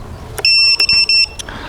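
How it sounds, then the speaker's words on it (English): A KingKong Fly Egg 100 FPV mini race drone's beeper sounds on boot: a loud, shrill run of several close electronic beeps in quick succession, with faint clicks before and after. "We can already hear a beeper on it"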